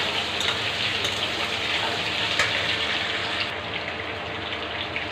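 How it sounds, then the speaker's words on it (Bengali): Cut potatoes fry in hot oil in a pan, giving a steady, even hiss that stays close and continuous, easing slightly softer near the end. "আলু ভেজে নেব ভালো করে"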